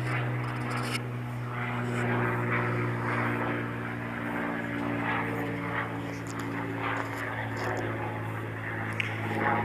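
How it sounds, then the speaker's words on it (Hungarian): A propeller airplane drones steadily overhead in a rural yard, a continuous engine hum holding for the whole stretch, with someone speaking now and then. "Repülő."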